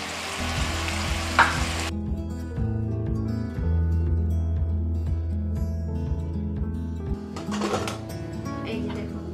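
Bitter gourd frying with chili powder and cumin in oil for a dal dish, a loud sizzle at first that drops to a softer fry with stirring scrapes, while someone talks over it.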